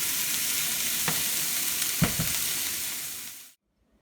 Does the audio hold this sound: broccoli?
yes